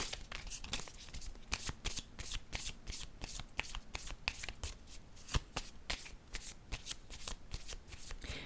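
Oracle cards are handled and shuffled close up in a fast run of crisp riffling flicks and taps that repeats steadily with no pauses, heard alone without voices.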